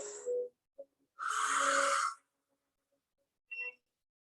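Yoga breathing in a calm practice, with a short breath, then one long, forceful breath of about a second through the nose or throat, and a small soft sound near the end in a quiet room.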